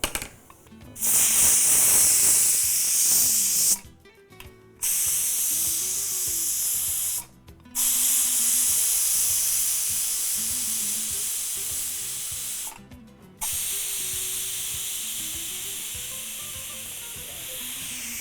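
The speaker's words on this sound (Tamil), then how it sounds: "நான் அணைச்சிட்டு இந்த ப்ரெஷர் ரிலீஸ் பண்ணிவிட்டு அதுக்கப்புறமா" Steam hisses loudly in long bursts as pressure is released from a kitchen pressure cooker on a stove, a steady harsh spray broken by several brief pauses, with no talking over it.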